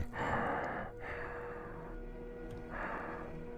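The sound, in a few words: imitated heavy breathing of a character in a tabletop role-playing game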